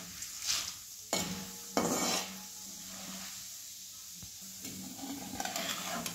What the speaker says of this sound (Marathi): चांगला असा कडक होईपर्यंत तळून घेऊया